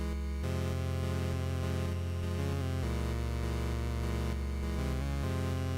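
Chiptune boss theme from the game Alwa's Legacy, built from square and sawtooth waves: a steady, dense stream of buzzy synthetic notes with a constant bass drone and brief section changes, loud and continuous with no talking.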